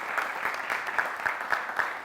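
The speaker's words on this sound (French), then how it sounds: "Public, je vais vous demander de faire des applaudissements" Studio audience clapping on a television variety show: faint, thin applause heard alone, with individual claps distinct in a quick, fairly even rhythm.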